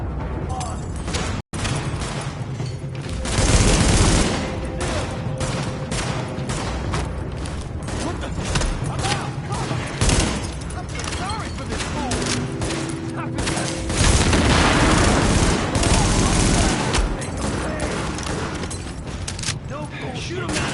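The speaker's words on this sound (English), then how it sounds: "Shoot him out of there!" Sustained gunfire rattles through a firefight in the video game The Division beta, bursts and volleys running almost without pause for about twenty seconds, loud and dense, with shouting voices over the shooting.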